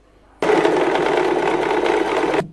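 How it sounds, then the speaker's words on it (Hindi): A sewing machine runs in one steady burst of about two seconds, stitching a seam in fabric for a small handmade mattress for a Laddu Gopal idol; the whirring motor starts and stops abruptly, close and loud with no talk. "एक सिलाई लगा लेते हैं"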